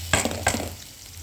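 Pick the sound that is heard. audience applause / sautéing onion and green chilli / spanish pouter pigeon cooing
sautéing onion and green chilli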